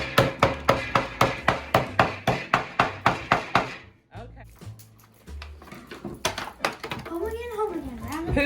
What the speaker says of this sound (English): You have to mash it up with a hammer